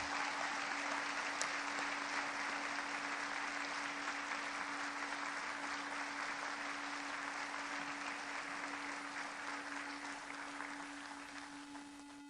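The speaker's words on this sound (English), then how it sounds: "Big round of applause for those scholarship recipients." At a high school senior awards night, a crowd claps for scholarship recipients in a long, even roar of many hands, steady for most of its length before slowly thinning out, over a faint constant hum and with no speech.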